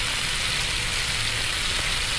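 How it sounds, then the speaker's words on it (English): Shrimp and calamari sizzling in a hot pan for seafood risotto, a loud, even, hissing crackle that stays constant and close, with no voices. "Look at that. I love hearing the sizzle"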